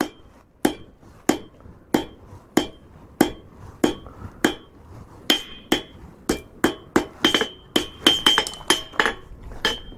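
Steady hammer blows on hot steel forge a short taper on a handmade cabinet handle, about two strikes per second, each sharp and ringing, quickening toward the end with bright metallic clinks.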